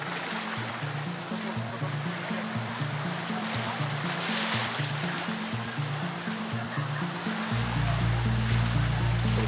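A motorboat moving through sea waves off Cape Tarkhankut in Crimea, with a continuous loud rush of water and splashing surf over a low engine drone that grows heavier toward the end.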